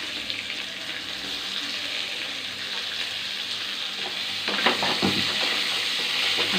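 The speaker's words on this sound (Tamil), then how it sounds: "இப்போது ஆனியன் போட்டு" Sliced onion hitting hot oil with curry leaves and golden garlic in a pan for a fish kuzhambu, a loud continuous sizzle with a brief stir or clatter near the end.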